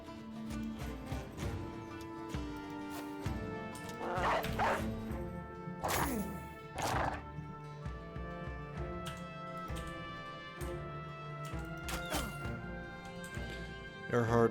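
A war dog barking in the video game Battle Brothers, several sharp barks and yips standing out over game music and battle effects while someone talks.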